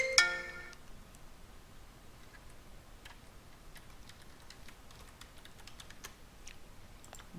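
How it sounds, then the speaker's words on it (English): A computer keyboard is tapped with scattered, faint key clicks at an uneven rhythm, after a short electronic chime at the start, as an administrator password is entered. "we need to type the administrator password"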